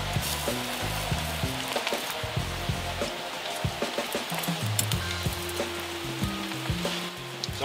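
Meat, butterflied chicken, sizzles steadily on a hot Travel Braai grill, with constant close crackling and spitting running the whole time and occasional louder pops.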